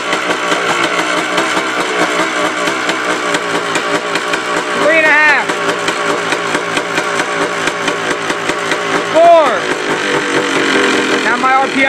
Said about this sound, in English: revs are coming back down, you see?